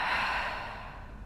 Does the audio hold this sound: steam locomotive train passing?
no